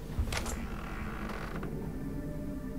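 A creaking door swings open in the Vampyr video game, a long mechanical groan with a brief rattling latch near the start, heard alone and fairly loud.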